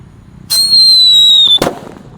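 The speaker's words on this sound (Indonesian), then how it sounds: "Lanjut di sini ada Blackbuster yang akan kita nyalakan selanjutnya, yang warna merah bosku. Kita dengarkan suaranya ya." A red Blackbuster firework lets out a shrill, loud whistle lasting about a second, then ends in a single sharp bang that quickly dies away.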